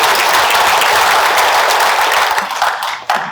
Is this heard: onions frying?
no